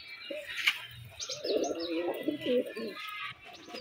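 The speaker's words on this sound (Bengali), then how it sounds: "আর যে এটা সবজি ঝুটি মোজা কবুতরও আছে আমার কাছে।" Crested, feather-footed jhuti moja pigeons coo softly in a series of low, rolling calls, with faint chirps and other birds in the background.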